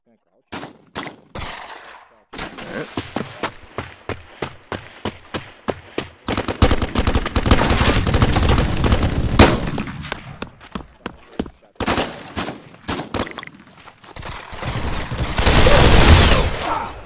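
Rapid bursts of automatic gunfire in the Elite Dangerous space combat game, with dense repeated shots that come in long volleys and short pauses, loud and continuous through most of the stretch.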